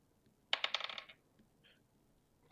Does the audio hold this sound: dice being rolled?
yes